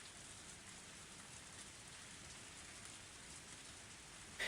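Torrential rain pours steadily in a scene from the Higurashi When They Cry video game, a dense, even hiss of downpour with no voices, holding constant throughout.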